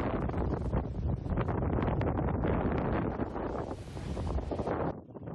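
Strong storm wind roars and buffets the microphone without letup, a loud, dense rushing that briefly rises higher before dropping off at the end, near a grass fire in the Ildır neighbourhood.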